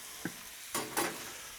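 Beetroot frying in butter on a hot plancha grill: a soft tap, then two short bursts of sizzling hiss as the pieces hit and are stirred, fading to a quiet steady fry.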